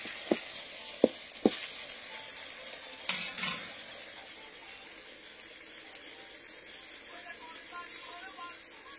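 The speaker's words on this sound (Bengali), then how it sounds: "যতক্ষণ আদা রসুনটা পেঁয়াজের সাথে ভাজা হয়" Ginger and garlic fry with onion in hot oil in a home kitchen, a soft, steady sizzle broken early by a few sharp clicks and scrapes of a spoon stirring, then settling to a quiet hiss.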